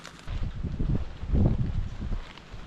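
Gusty wind buffets the microphone in low, rumbling bursts at a spring building site, rising to a stronger blast midway before easing, with no voices present.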